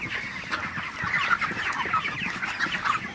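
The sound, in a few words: broiler chickens clucking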